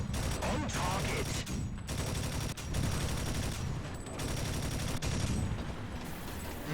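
Dense, continuous gunfire and explosive battle noise from a T-60 light tank in War Thunder ground combat, loud and sustained throughout the clip with repeated firing bursts.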